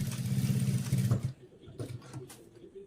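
An electric sewing machine stitches fabric in a tailoring session, a fast steady whirring hum for over a second before stopping, followed by quieter handling noises and brief bits of speech.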